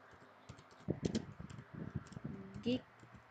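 Quick, light clicks of a computer keyboard as a networking command is typed, the keystrokes coming in short bursts under a speaking voice.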